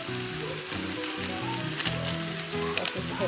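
Vegetable fried rice seasoned with instant fried-rice spice mix sizzles steadily while being stir-fried in a pan, a constant bright crackling hiss with occasional louder spits and scrapes.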